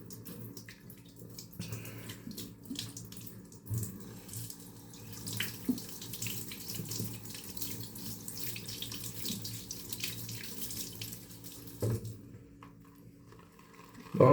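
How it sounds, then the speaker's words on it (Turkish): Hot water trickling and splashing into shaving soap lather as drops are added, a running tap-like wash with small drips and squishes, moderately close and without talking. "Şöyle içine birazcık sıcak su birkaç damla ekleyelim."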